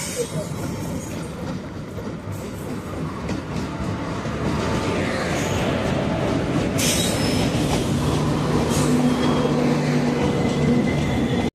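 A passenger train rolls into a station on a Konkan route toward Khed, its loud, steady rumble building and its wheels squealing, under the chatter of a busy platform crowd.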